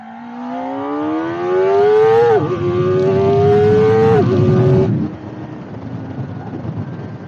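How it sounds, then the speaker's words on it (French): A Kawasaki ZX4-RR motorcycle accelerating hard on a motorway, its high-pitched engine whine climbing steadily through two gear changes before dropping back to a lower cruising drone, loud and close. "on va faire le petit test de bruit et d'accélération"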